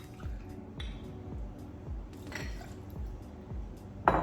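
Vanilla vodka pours into a cocktail shaker over ice, making a rhythmic series of soft, low glugs about every half second, close by, ending with a brighter clink.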